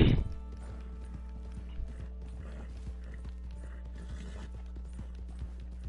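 Horse hooves clip-clopping in the Red Dead Redemption 2 video game, a rapid steady run of hoofbeats with a faint mechanical rattle, lasting several seconds after a short louder burst at the start.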